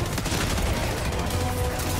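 In the video game Helldivers 2, rockets and gunfire erupt together as a loud, dense barrage. Booms and shots blur into a continuous wall of noise for the whole two seconds.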